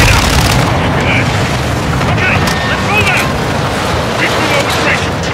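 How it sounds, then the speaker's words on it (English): Gunfire and booms from a Call of Duty Modern Warfare II firefight on a dark, watery level with boats and shipping containers, dense and continuous at close range, with wind and water noise around it. "Let's have ourselves a gunfight."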